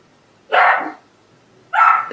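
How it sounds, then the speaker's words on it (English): A dog barks twice, short, loud and close, with a pause between the two barks and no talk over them. "My dog just started barking."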